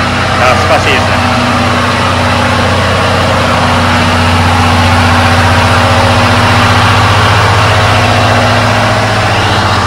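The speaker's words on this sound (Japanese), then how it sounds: "発電機の音いいですね。" A generator running on the SL Gunma Yokokawa steam locomotive train, giving a loud, steady mechanical hum with a low rumble that carries on unchanged for about ten seconds.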